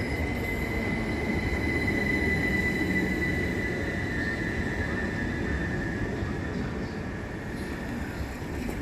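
Southern Railway class 377 electric unit 377327 pulling into Havant station, a steady loud rumble of wheels on rail with a faint high squeal running throughout, sustained for the whole stretch.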